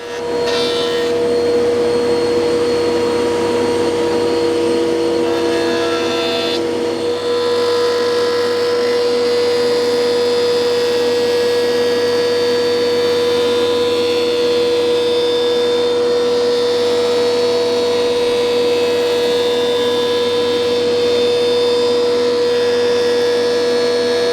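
A wood planer mills a rough-cut oak board for a coffee table top, a steady loud mechanical whine and hum that holds without a break throughout.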